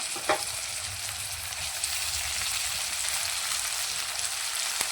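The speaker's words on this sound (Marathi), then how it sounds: "टोमॅटो आणि कोथिंबीर टाकून घेऊया आणि हेही आपण तेलामध्ये चांगले फ्राय करून घेऊया" Chopped tomato and coriander fry in hot oil in a pan, giving a steady, soft sizzle with no talking and a brief stirring click near the start.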